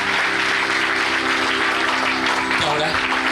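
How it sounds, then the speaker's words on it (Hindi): Audience at a religious healing service clapping their hands in thanks, a steady, dense wash of applause lasting several seconds, loud and close, with a sustained musical tone underneath and some voices mixed in. "ताली बजाकर प्रभु का धन्यवाद।"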